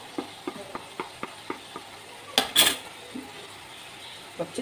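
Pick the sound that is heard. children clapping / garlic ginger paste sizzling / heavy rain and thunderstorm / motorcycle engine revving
garlic ginger paste sizzling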